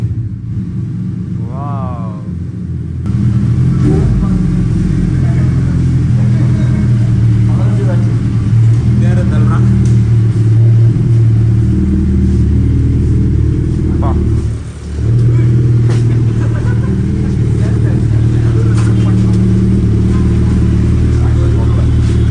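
A Suzuki Hayabusa superbike engine runs loud and close for about twenty seconds, holding a steady mid-pitched drone with small rises and one short dip near the middle; people talk in the background over it.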